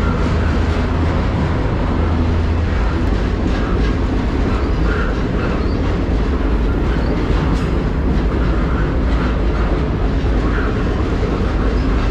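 A train runs on rails with a loud, constant rumble and a faint rhythmic clickety-clack from the wheels, heard up close from aboard throughout.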